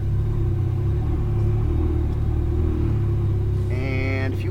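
A Ferrari 458 Italia's engine hums in a deep, steady rumble close by as the car is given light throttle to pull out of a pit stall, a rising tone emerging near the end, with a voice speaking over it.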